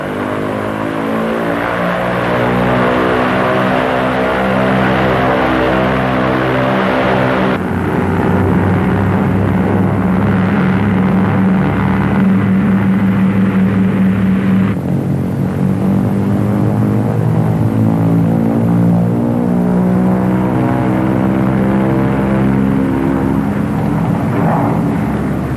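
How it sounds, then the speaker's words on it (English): Twin engines of a Lockheed P-38 fighter run up on the ground with brakes held and booster pumps on. The throttles are pushed to maximum manifold pressure, giving a loud, steady propeller drone that fills the whole stretch with no talk. "Booster pumps on, toe brakes held, throttles advanced to get maximum allowable manifold pressure."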